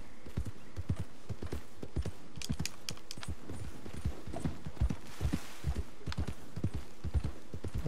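Horse hooves beat a brisk, continuous clip-clop in Red Dead Redemption 2, close and even, with no voices over the galloping rhythm.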